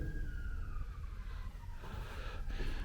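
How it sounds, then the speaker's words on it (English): A police siren wails through a London street, its falling tone clear over a constant rumble of traffic, heard fairly close and steady without speech. "if you can replace the sound of police sirens with air raid sirens"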